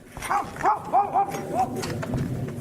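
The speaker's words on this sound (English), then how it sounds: "That's when he hears his dog barking like crazy." A dog barks excitedly several times in quick succession, close by, over a noisy outdoor background with faint rustling.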